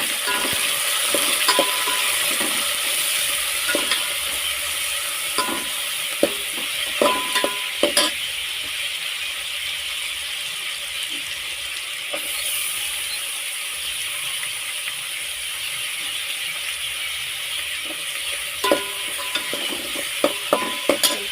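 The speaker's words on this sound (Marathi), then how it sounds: "इथे कांदा झाला आता मी मिरची टमाटर टाकून घेते त्याच्यामध्ये" Onion, chili and tomato fry in a pan for an okra dish, giving a loud, constant sizzle throughout with scattered scraping clicks from stirring and no speech.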